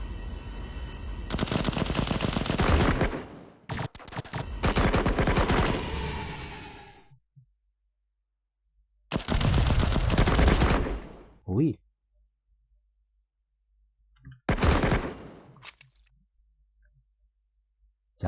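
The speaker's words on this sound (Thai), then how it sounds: "มันยิงจ่อๆเลย" Gunfire in the Cover Fire shooter game, loud sustained bursts of automatic shots in several separate volleys with gaps of silence between them, alone with no talking.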